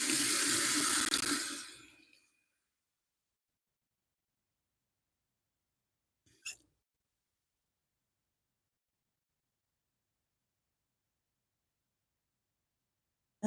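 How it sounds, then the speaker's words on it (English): Vegetables are rinsed under a running kitchen tap: a close, splashing stream of water that stops after about two seconds, then near silence broken by one brief knock and a click at the very end. "So I'm just going to wash my veg real quick."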